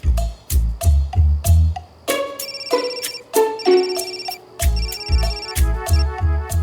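A phone ringtone plays a loud, repeating electronic melody of plucked and chiming notes with a bouncy rhythm, standing alone without speech.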